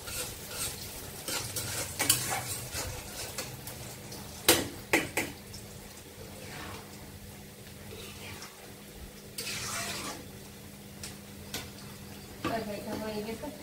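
Onions and vegetable stalks frying in a pan, with repeated stirring scrapes and clanks of a spoon against the pan over a low sizzle, some sharp knocks, and speech heard in places.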